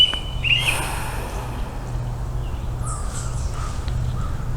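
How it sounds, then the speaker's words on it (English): Crows cawing outdoors, one loud nearby call at the start and fainter calls later, over a low steady rumble of wind. "We can hear the birds"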